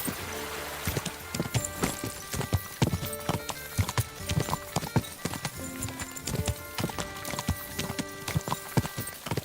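Horse hooves clip-clopping at a steady riding pace in the medieval game Kingdom Come: Deliverance II, a continuous rhythmic beat of hoofbeats with creaks of tack and a brief whinny.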